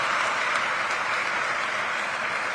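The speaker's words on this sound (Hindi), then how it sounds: "आप सबसे निवेदन करता हूं कि एक बार जोरदार तालियों के साथ आप उनका स्वागत और अभिनंदन करें।" Loud, dense applause from a ceremony crowd welcoming a guest at an inauguration and foundation-stone event in Raipur, a steady, even roar of many hands filling the space with no voices above it.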